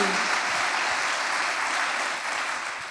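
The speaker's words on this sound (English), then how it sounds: "Come on, give God a mighty hand clap." A church congregation claps in dense, sustained applause for a preacher's sermon, a steady wash of many hands that eases slightly near the end.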